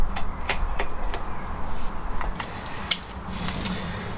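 Metal 13mm bolts are threaded in and tightened down on the rocker cover of a classic Fiat 500 during a head gasket job. Scattered close, sharp mechanical clicks and light ratcheting ticks sound over a low background rumble.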